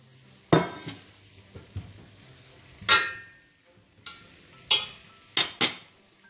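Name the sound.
mushrooms being added to a pan and stirred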